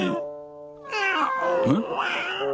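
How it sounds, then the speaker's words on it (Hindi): A cat meows twice, loud and close, with drawn-out, wavering cries; a short tonal hum sounds just before the first meow. "अरे ये बिल्ली यहाँ पर कब आ गई?"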